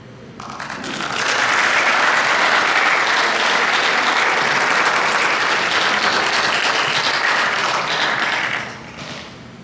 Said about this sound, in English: I think a big round of applause is deserved.